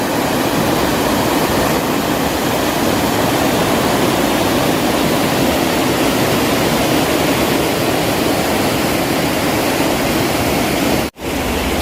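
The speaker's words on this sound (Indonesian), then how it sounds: "Sangat begitu deras untuk aliran sungainya sendiri sahabat, karena ini lagi memasuki musim penghujan ya" The Citarik river rushes fast and swollen in the rainy season, a loud, unbroken broadband roar of turbulent water close by that is cut off abruptly for an instant near the end.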